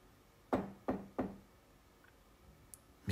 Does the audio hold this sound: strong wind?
no